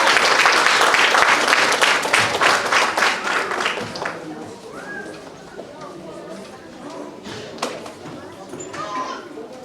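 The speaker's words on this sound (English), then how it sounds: "So please give a round of applause for our recording team." A recital audience breaks into loud, dense applause that fades after a few seconds into scattered claps and chatter, with a voice speaking over it.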